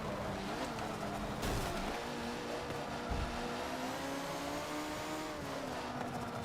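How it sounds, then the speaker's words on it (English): Race car engines from the Forza Motorsport 7 racing game drone and rev continuously, a pitch-shifting whine rising and falling as the cars accelerate through a lobby race, loud and up close with no talk. "Oh, John's Lancia hasn't been fast."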